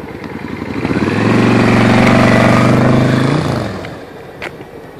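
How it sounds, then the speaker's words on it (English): A motorcycle swells in as it approaches, its engine loud and close at the peak with a rising and falling pitch, then fades as it passes. "oh, the motorcycle"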